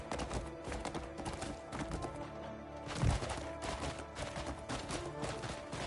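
A horse gallops in the video game Crimson Desert, its rapid hoofbeats drumming in a steady rhythm with a sharper thump partway through, set against a busy game soundscape.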